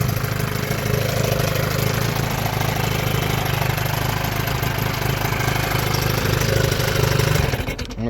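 A 1997 Johnson 9.9 hp long-shaft two-stroke outboard motor runs steadily at a close, even idle, its rough drone holding for nearly the whole span before cutting off at the very end.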